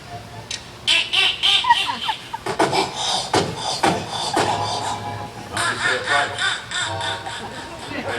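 Ducks quacking as a sound effect for a duck-hunting scene, a busy run of loud honking, squawking calls repeating close up over a low steady hum, with some voices mixed in.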